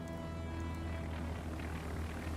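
Propeller aircraft engines from carrier planes in the naval strategy game Task Force Admiral give a faint, steady droning hum throughout with no one talking.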